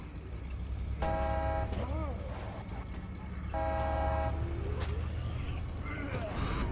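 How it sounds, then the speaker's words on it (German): A car horn honks twice in the zombie survival game State of Decay, two short, bright toots about two seconds apart over a low engine drone, with someone talking around them. "Können ja mal hupen."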